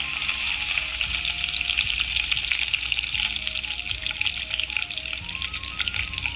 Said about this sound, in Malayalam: എണ്ണ നന്നായിട്ട് ചൂടായിട്ടുണ്ട്. 2 കറിവേപ്പില ചേർത്ത് കൊടുക്കാം.